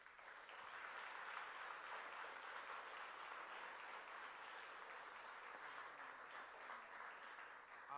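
An audience at an educational summit at Laney College applauding, sustained even clapping from a crowd, fairly faint and distant.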